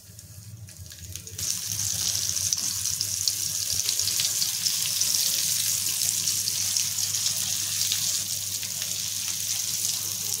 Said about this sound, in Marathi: आता आपण हे दोन्ही बाजूने छान फ्राय करून घ्यायचे